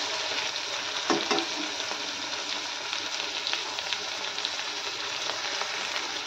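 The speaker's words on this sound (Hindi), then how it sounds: "सबसे पहले हम डालेंगे टमाटर, ताकि टमाटर फ्राई हो जाए हमारा।" Tomatoes fry in a pan for a vegetable pulao, a close, steady sizzling hiss with occasional stirring scrapes and pops, and no voices.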